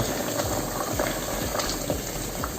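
Simmering roast beef sauce with water added, a dense bubbling and gurgling of liquid at a steady close level, no talk.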